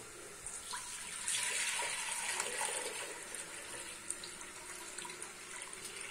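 Water runs steadily from a tap into a pot in a kitchen where traditional Pakistani food is being cooked, a continuous close splashing with no voices.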